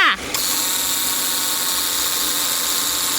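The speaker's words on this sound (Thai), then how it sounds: "เสียงฟอมแอร์ดังชัดเจนนะคะ" Steady mechanical whine and hum running continuously at close range from a noisy air conditioning compressor on a Subaru XV 2.0i, droning under the engine noise.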